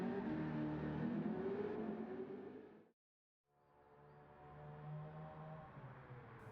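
A 1969 Ford Mustang Boss 429 with a swapped engine revs hard in Gran Turismo 7, a loud raspy roar that drops into near silence, then climbs back through rising gear pulls, with no talk.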